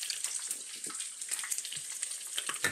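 Salmon cakes, some half-moon shaped, deep frying in oil, a bright crackling sizzle full of quick pops and bubbling, close and steady.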